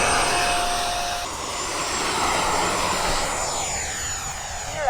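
Electric ducted-fan RC model jet, a Freewing F-22A Raptor with 90mm fans, spooling up for takeoff, giving a steady loud whine and rushing roar that holds throughout with a shifting high tone, no voices.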